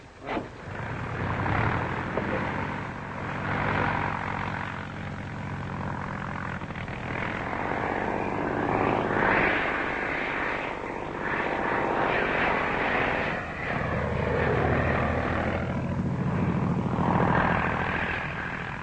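A steady, droning propeller airplane engine in flight hums throughout, in a 1941 film, with a rough propeller-like throb and no speech, holding a constant loudness for the whole stretch.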